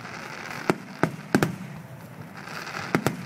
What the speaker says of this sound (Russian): вот техника салюта, да? Японская это самая лучшая.